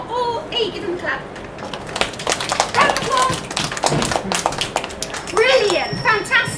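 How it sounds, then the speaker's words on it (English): A Year 2 class of young children claps for classmates, a scattered burst of light hand claps mixed with children's voices and classroom chatter. "Give them a clap."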